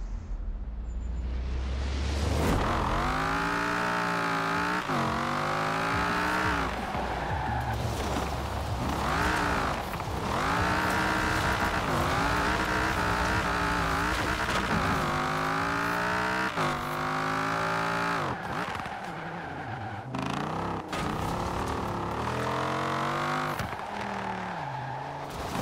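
Race car drifting in Forza Horizon 4, loud continuous engine with sweeping revs rising and falling alongside sustained tire squeal across the whole stretch, close and unbroken with no talk.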